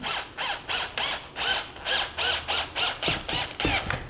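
A KIMO cordless drill driver fitted with a flexible shaft drives a screw in loud, rapid rhythmic bursts of ratcheting clicks, close and alone, about eight pulses in four seconds.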